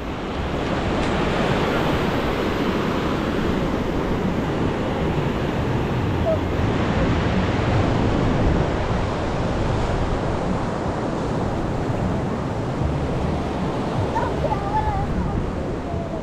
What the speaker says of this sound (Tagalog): Masyadong malakas yung alon mga kabeli.